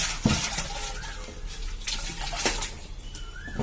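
Clean water poured into a clay pot while it is washed with a scrub or cloth, a soft, continuous splashing and trickling close by, with a few brief knocks.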